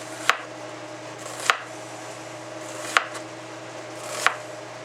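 A knife slices through an onion in four crisp, evenly spaced cuts roughly a second and a half apart. Each cut is close and distinct over a quiet, steady background hum.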